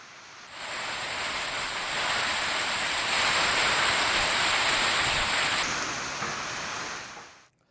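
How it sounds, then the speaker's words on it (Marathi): Heavy rain driven by stormy wind in Buldhana, a loud, dense, unbroken hiss and roar of downpour that swells midway and cuts off abruptly near the end, with no voices. "वादळी वाऱ्यासह जोरदार पाऊस झाला।"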